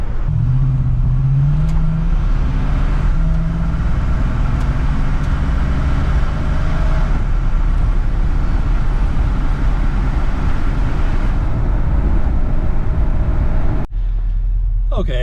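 A 1975 Ford F250 truck with a 390 FE V8 and a swapped carburetor accelerates hard, a loud steady engine roar rising in pitch for about fourteen seconds before cutting off abruptly.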